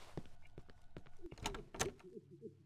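A locked door rattles in the horror video game Cry of Fear, a series of faint clunks and thumps followed by a brief louder shaking burst, with quiet talk underneath.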